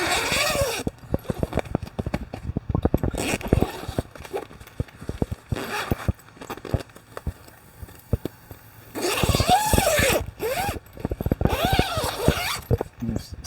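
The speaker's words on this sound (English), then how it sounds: "Bring the two red zippers together, then take them opposite directions, and it lowers the screen" The zippers on the emergency screen of a 2011 Jeep Livin Lite Extreme Trail Edition pop-up camper rasp open in repeated close, loud bursts, the teeth ticking rapidly, with pauses between pulls and no talk.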